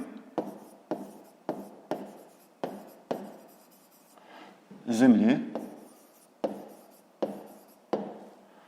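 A pen or pencil taps and scratches on paper in a quick regular series of short strokes while a math solution for a fifth-grade exercise is written out; a voice speaks briefly in the middle.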